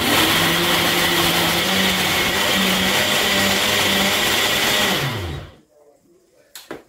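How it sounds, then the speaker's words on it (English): A kitchen blender purees tomatoes in one loud, steady whir lasting about five seconds, then cuts off abruptly and winds down into near silence. "I'm going to blend off my tomatoes now"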